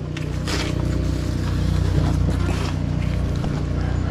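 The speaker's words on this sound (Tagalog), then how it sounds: "Yung motor ni Pops" A steady motorboat engine drones continuously at close range, a low rumbling hum with slight scraping noises over it.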